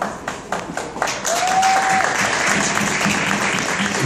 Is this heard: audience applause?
yes